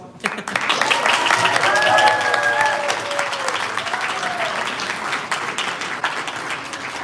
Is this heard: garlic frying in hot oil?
no